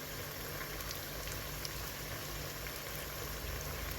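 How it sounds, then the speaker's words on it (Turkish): Tomato paste sizzling as it is stirred and roasted in a hot pan while making an Uzbek meat soup, a steady close frying hiss running the whole time with no talk. "salçayı güzelce kavurayım ben"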